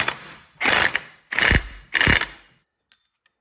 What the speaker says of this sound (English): I'll use a little persuasion from the Ingersoll-Rand impact